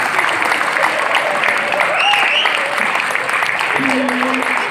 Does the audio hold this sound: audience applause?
yes